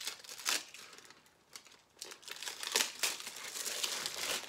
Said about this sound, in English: Classic cellophane.